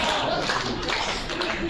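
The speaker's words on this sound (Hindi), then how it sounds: "इतने ताली बजा रहे हो," An audience claps at a Hindi comic poetry gathering in a hotel hall, a dense, steady burst of many hands clapping at close range, with no talking over it.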